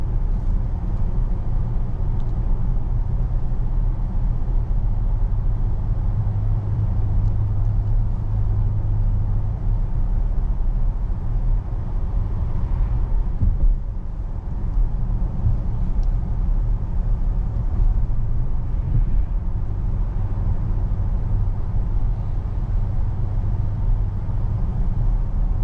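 Steady cabin drone inside a 2025.5 Volvo XC90 B6 Ultra on the move, with low engine hum and road rumble holding constant throughout, no talking over it.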